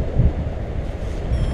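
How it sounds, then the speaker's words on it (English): Wind blows outdoors under cloud, buffeting the microphone with a steady low rumble and a few stronger gusts, brief and without voices. "wind a little bit."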